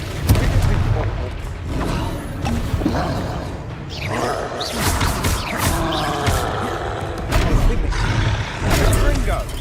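Confringo blasting spells burst in Hogwarts Legacy, giving loud booming impacts and crackling debris layered over dense combat noise and shouted voices, with several heavy hits clustered around the middle and end.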